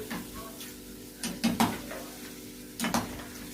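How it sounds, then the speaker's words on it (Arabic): Zalabia frying in hot oil in a pan is stirred, with soft sizzling underneath and a few distinct scraping, clinking strokes of the utensil clustered in the middle and near the end, close up and alone. "انا عماله اقلب فيها"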